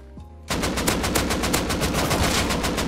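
Sustained automatic gunfire in the survival video game Rust, a dense rapid burst of loud close shots starting abruptly and continuing without pause.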